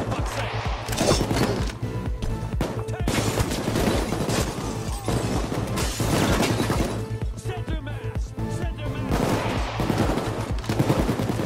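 Rapid gunfire fills the heist video game Payday 2, dense continuous bursts of loud shots and automatic fire with crashes mixed in, steady throughout.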